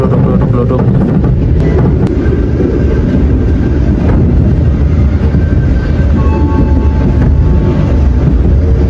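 Inside an Argo Sindoro passenger carriage, a luxury train on the Pantura line in Indonesia, a loud continuous rumble fills the space, with faint creaks and rattles of the car rising over the steady roar throughout.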